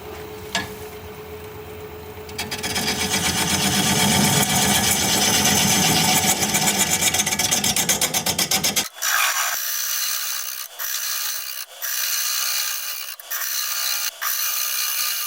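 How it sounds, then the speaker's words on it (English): Carbide radius square cutter on a wood lathe turning cracked olive wood, a steady loud scraping rasp for about nine seconds, then lighter intermittent cutting with short pauses. "I'm going to try this radius square cutter that I have."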